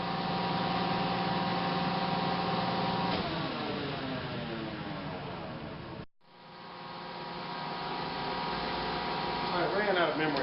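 An Ellis bandsaw hums steadily while cutting off a workpiece; the tone shifts partway through, cuts out abruptly for a moment, then the motor winds back up and runs on.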